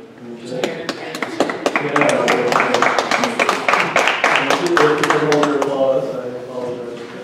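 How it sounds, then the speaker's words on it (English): Applause at a city council meeting on accessory dwelling units in Colorado Springs: sharp individual claps quickly swell into steady, fairly close clapping from the room, thinning out near the end, with voices murmuring underneath. "Applause."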